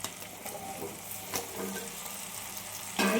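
Brinjal, drumstick and yam saute in hot oil for a village-style dried fish curry, giving a steady, close frying sizzle with a brief stirring rustle near the end.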